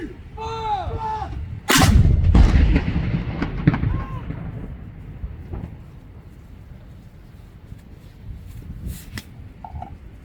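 Ceremonial 21-gun salute cannons fire in steady rain at a Remembrance Day ceremony, one big blast landing near and loud, then rolling echoes and further distant reports, with faint shouted orders around them.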